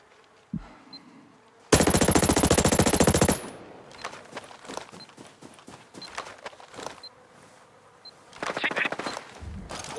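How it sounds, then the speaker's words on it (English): A sudden loud burst of rapid automatic gunfire in the video game Ghost Recon Breakpoint lasting a couple of seconds, followed by scattered clattering, footstep-like knocks and distant shots. "I hear gunfire"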